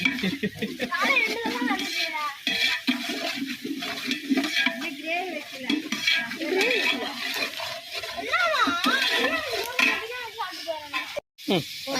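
Mutton biryani is stirred in a pot with a scraping, rustling sound, heard continuously under people talking over it.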